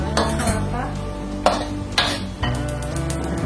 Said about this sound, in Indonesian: Lalu tumis sampai matang.